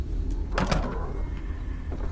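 A door swings open in the horror video game The Evil Within, a single creaking, scraping movement lasting about a second over a steady low rumble of game ambience.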